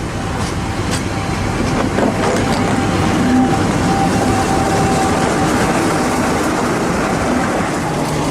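A Class 50 diesel locomotive, 50017, hauls its train northbound, giving a constant loud rumble of engine and wheels with faint rail clatter throughout and no talking.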